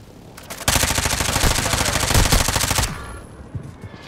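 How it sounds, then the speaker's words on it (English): A loud, rapid burst of automatic gunfire in an online shooter game on the Vondel map lasts about two seconds, then cuts off to quieter game ambience. "Is he shooting at you?"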